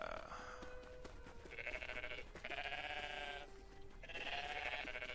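Three long, wavering sheep bleats in a video game follow one another, each held for about a second, with a faint steady background between them.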